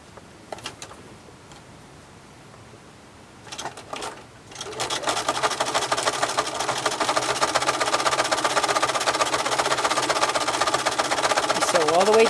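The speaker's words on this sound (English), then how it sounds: "we're going to take this to the machine and sew this with a zigzag stitch." A home sewing machine runs a steady zigzag stitch along an embroidered tea towel bib, starting after a few quiet seconds and then whirring loudly and continuously up close.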